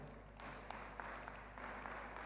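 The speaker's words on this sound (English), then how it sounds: "I'm sure that you would want to give her a bigger round of applause." Audience applause at a sports heritage symposium opening ceremony, a steady wash of clapping heard from a distance, fairly faint and even, lasting the whole stretch.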